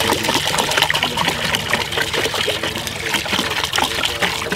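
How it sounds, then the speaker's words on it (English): Clean stream water from a mountain is poured steadily into a container outdoors, a continuous close trickle and splash without pause. "So we'll add all this water."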